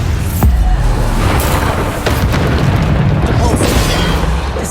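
Bombarda spell explosions in the PS5 game Hogwarts Legacy land as loud, deep booming blasts with rumbling tails, repeating over a dense bed of in-game combat noise.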